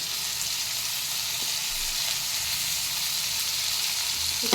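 Fennel seeds, shallots and curry leaves frying in oil for a dried anchovy thokku, a dense, steady crackling sizzle that holds evenly close up, with no talking.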